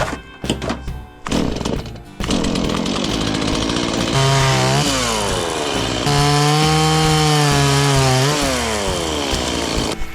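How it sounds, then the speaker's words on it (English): A chainsaw roars loudly and continuously, its pitch bending up and down as it bites into wood, after a few short sputtering starts. "I got the chainsaw."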